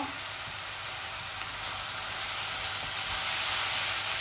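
Steady, close sizzling of onions frying in hot oil with turmeric, a continuous bright hiss that swells slightly toward the end, with no talking.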